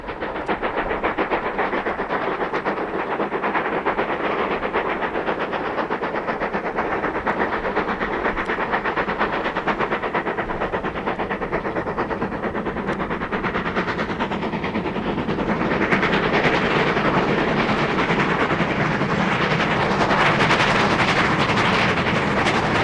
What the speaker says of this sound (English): a special steam train chartered by railway photographers climbing up towards Carrara around one of the most spectacular curves at the top of the long haul